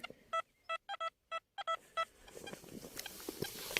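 An XP Deus metal detector sounds a run of short electronic beeps in an irregular rhythm while sweeping for Roman-era coins, followed by faint rustling and soft ground noise.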